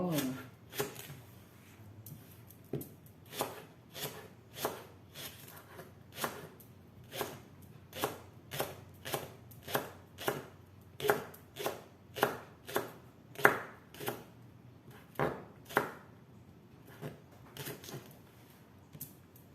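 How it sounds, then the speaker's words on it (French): Knife slicing leeks into thin rounds on a cutting board, a long run of evenly spaced crisp chops growing slightly louder, with faint talk underneath. "Alors, je vais les couper en fines rondelles comme ça."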